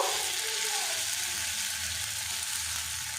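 Steady oil sizzle and crackle of lentil paste frying, constant and close throughout with no voices.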